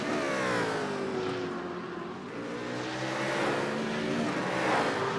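A GT3 race car in the iRacing sim crosses the start-finish line at Montreal, its engine a steady, fairly loud drone with shifting pitch as it passes, with no talk over it.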